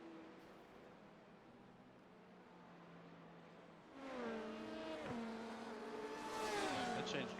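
A Porsche race car engine roars at a distance, a steady drone that swells louder and rises in pitch partway through, with faint tire noise.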